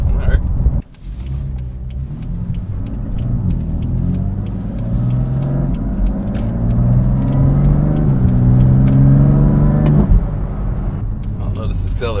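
A car driving in Sport Plus mode with big wheels accelerates, its engine note rising steadily in pitch through the gears over a constant road rumble, loud and close inside the cabin.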